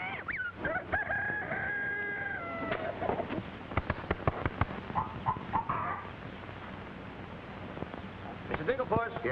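Hens clucking and a rooster crowing in a comedy farm scene, with several drawn-out crows and sharp clucks up close while people talk over them.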